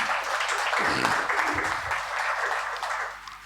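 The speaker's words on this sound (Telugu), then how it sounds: "చప్పట్లు కొడదాం." A church congregation applauds at an anniversary service, a brief stretch of dense, fairly distant clapping with a voice faintly heard over it.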